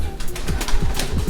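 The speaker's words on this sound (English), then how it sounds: "Don't mind the birds! They're there!" Pigeons coo in low, throaty pulses outdoors, close and loud, repeating in a rough rhythm under some wind and bustle, with possible wing flaps.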